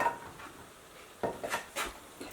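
Knife cutting zucchini and yellow squash into slices on a board, with a handful of soft, quiet chops and scrapes at irregular intervals, close but faint.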